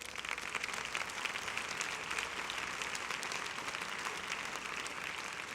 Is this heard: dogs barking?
no